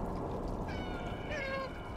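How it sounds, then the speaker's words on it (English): A cat meows in the video game Stray: a couple of short, rising-and-falling meows heard over a steady, loud background hum of game ambience. "I can't meow."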